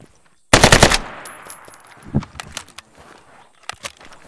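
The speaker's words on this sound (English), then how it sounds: "I just fired a few rounds" Rapid automatic gunfire from a video game bursts loudly in close, followed by sparse scattered shots and light footsteps-like clicks fading into quieter moments.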